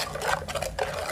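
A spoon stirs a sardine, drumstick and mango curry in a pot, making a brief, close run of soft scraping and light clinks against the pot's side.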